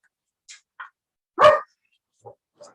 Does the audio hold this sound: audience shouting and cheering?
no